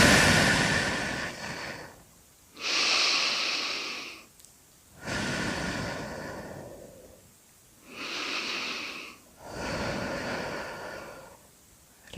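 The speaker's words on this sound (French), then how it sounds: "je vais effectuer 3 vastes respirations" Slow, deep breaths taken alone in a quiet room during a sophrology relaxation session, several long noisy inhales and exhales in an even rhythm with short silent pauses between them.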